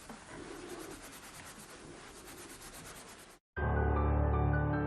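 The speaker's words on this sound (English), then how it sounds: "he uses softer material to whiten and bring out the hamon pattern" A newly forged samurai sword blade is polished with softer material to whiten the hamon, producing close rhythmic rubbing and scraping strokes that stop suddenly, followed by a different loud steady tone.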